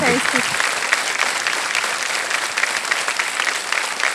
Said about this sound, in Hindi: ये जो ताली है ये बड़े भैया की ओर से है।